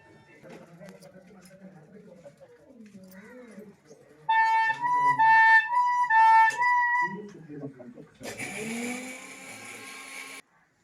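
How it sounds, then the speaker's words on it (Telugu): A mixer grinder whirs loudly for a couple of seconds near the end, grinding ginger and garlic, after people speaking and other voice-like sounds. "ఇప్పుడు ఇవి అయితే మిక్సీ పడుతుంది"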